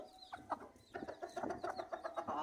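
A hen, one of the older birds in a backyard flock, clucks in a run of short, close calls, steady and fairly loud with no talk over it.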